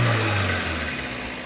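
A Suzuki APV engine idles steadily and smoothly with no misfire after an oxygen sensor replacement, a close, even low hum with no stumbles or talk.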